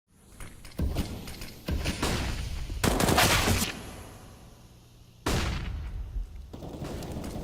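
Counter-Strike: Global Offensive gunfire during a competitive match: bursts of rapid automatic shots in clusters, with sharp loud volleys in the middle and again near the end, and quieter game ambience between them.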